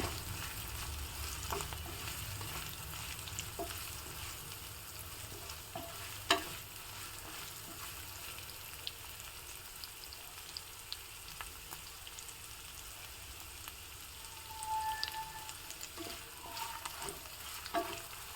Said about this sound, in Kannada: ಅದನ್ನು ಸಹ ಎಣ್ಣೆಯಲ್ಲಿ ಚೆನ್ನಾಗಿ ಬಾಡಿಸ್ಕೋಬೇಕು ಸ್ವಲ್ಪ ಕ್ರಿಸ್ಪಿ ಆಗೋವರೆಗೆ